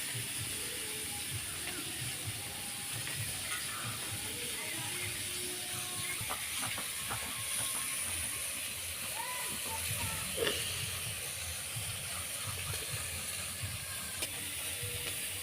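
Fish frying in a pan gives a steady, dense sizzle and hiss, with occasional small clicks and clatters layered on top throughout.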